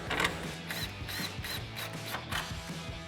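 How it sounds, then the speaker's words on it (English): Ratcheting socket wrench driving factory 10mm screws into the grille bracket of a 2013-2018 RAM 1500, a steady run of close, quiet clicking strokes repeated in short bursts with no talk. "So now we're going to grab our factory screws in our 10mm socket and get these back in."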